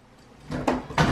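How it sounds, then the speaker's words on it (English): A door slides open at home, giving a rising scrape and a couple of rolling, rattling bursts over about a second, loud and close. "Open the door."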